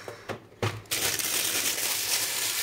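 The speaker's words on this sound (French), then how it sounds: "Désolée pour les bruits de papier." Paper crinkles and crushes close by. A few short crackles come first, then a steady, dense rustling continues to the end with no speech.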